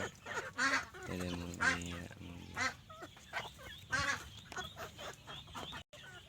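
Chickens on a farm give a run of loud, nasal, honking clucks and squawks close by, several calls overlapping in uneven bursts with brief gaps.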